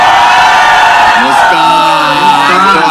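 A studio audience hoots, whoops and cheers loudly for a contestant named Muskan during an escape-room show, a dense continuous wall of crowd voices with rising yells throughout.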